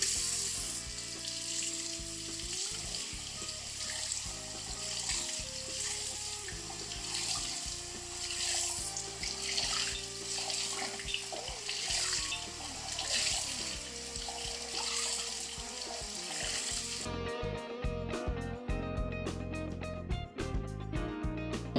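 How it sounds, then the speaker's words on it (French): Tap water runs steadily from a faucet to rinse dirty filter sponges from an Oase Biomaster 600 external aquarium filter, a continuous close splashing and gurgling that shifts in tone as the sponges are worked under the flow. "il nettoie ses mousses à l'aide de l'eau du robinet"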